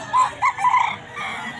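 A gamefowl rooster at a Sunday pet market in San Jose del Monte, Bulacan, crows once, loud and close, with a few clucks trailing off into quiet.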